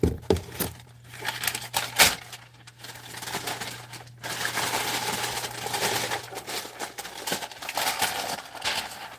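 Packing paper is crumpled by hand to stuff a box for shipping a resold item, giving a steady, close crinkling and rustling that runs through most of the clip without speech.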